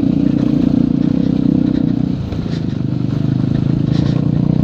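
A new motorcycle with a modified exhaust revving loudly and steadily close by, a dense continuous roar with a brief dip midway and no talking.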